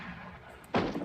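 One sharp gunshot cracks near the end, loud and close against a quiet, faintly humming background.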